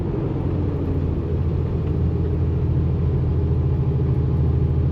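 A heavy truck engine labours steadily up a long climb while held at low revs, a loud, continuous deep rumble and drone with no talk over it.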